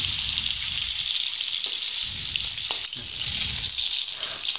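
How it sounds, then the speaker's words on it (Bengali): Boiled eggs frying in hot oil, a steady close sizzle and crackle with a few soft stirring knocks, continuous and without speech. "এইভাবে করে আমি ভেজে নেব সবকটা ডিম"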